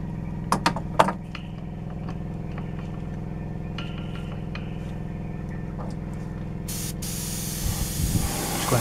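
Steady airbrush or spray hiss over a constant compressor hum while light paint coats go onto a Tamiya 1/12 Yamaha YZR-M1 model, a few clicks early on and a louder burst of spray near the end.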